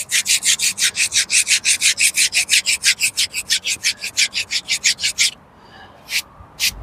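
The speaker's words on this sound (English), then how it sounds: "Just have a rasp." Hand rasp filing wood while repairing an old structure, loud close strokes in a quick regular back-and-forth rhythm, about twenty in a row, then a pause and a couple of final strokes.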